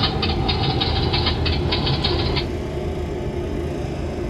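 Boeing 737-800 engines run in a home-built flight simulator, giving a steady, loud droning rumble with a rhythmic rattling pulse that stops partway through.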